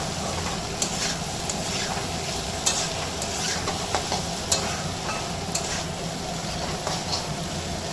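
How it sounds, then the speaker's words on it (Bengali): Carrot and potato pieces fry in a pan while being stirred: a steady, close sizzle runs throughout, dotted with small scraping clicks from the utensil, and no one speaks. "আর এদিকে গাজর আলুটা ভাজা হচ্ছে"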